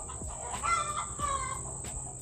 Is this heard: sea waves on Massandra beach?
no